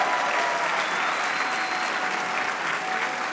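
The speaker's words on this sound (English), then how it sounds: "Give Jewel a big round of applause." A dinner audience at an HRC Los Angeles event claps steadily in a big round of applause, a continuous, even roar of many hands sustained without pause.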